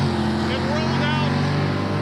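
Roadkill Garage Crop Duster car with its engine running hard on a drag strip: a loud, steady engine drone rolls on without a break, with people talking over it.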